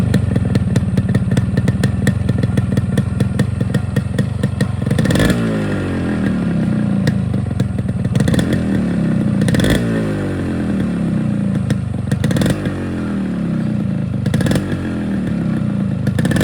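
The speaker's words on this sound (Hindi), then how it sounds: "देख सकते हैं गाड़ी में ऐसा ब्लास्टिंग इफेक्ट आ रहा है।" A Yamaha RX100 motorcycle idles and revs after its exhaust muffler has been cleaned, a loud, close two-stroke putter broken by repeated sharp blasts from the exhaust every few seconds, with no talking.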